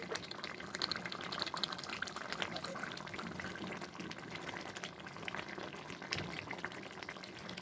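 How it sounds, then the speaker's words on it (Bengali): Pabda fish curry with green chilies boiling in a pan, a steady, dense bubbling and simmering hiss that continues evenly throughout at moderate volume. "দেখুন কি সুন্দর ফুটছে।"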